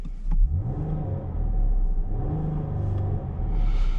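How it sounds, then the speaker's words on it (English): A 2024 Chrysler Grand Caravan minivan engine revved from idle in repeated pulls, rising and falling twice toward a soft limiter, heard from inside the cabin as a moderate hum with a low rumble. "let's give it a little rev test"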